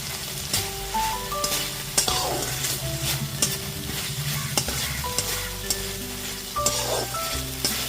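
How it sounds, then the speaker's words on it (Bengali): Spice masala with green chillies fries on a low flame while a utensil stirs it, giving a continuous close sizzle broken by repeated scraping strokes, with faint steady tones in the background. "গ্যাসের ফ্লেমটা লোতে রেখে মশলাটা একটুখানি কষিয়ে নিয়েছি।"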